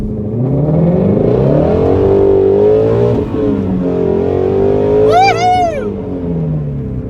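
A Ford Shelby GT350 V8 engine rumbles loudly nearby, with rising and falling revs and a brief high whining sweep near the end.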